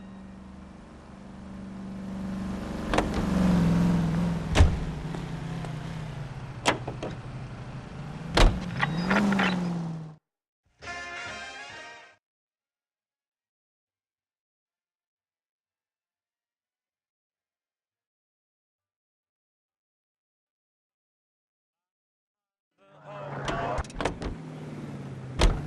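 A car driven in L.A. Noire hums and revs in bursts, with a few sharp clunks, then cuts to silence before the engine noise returns near the end; voices talk faintly over it.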